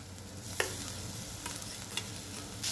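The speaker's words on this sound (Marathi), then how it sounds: "सर्व मिक्स करून घेऊया।" A spoon stirs brinjal and spring onion frying in a pan with chilli powder and salt, a soft steady sizzle broken by a few sharp scraping clicks against the pan.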